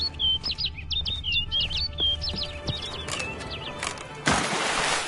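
A game bird sings a quick series of high chirps and trills close by, then a burst of broadband noise cuts in near the end.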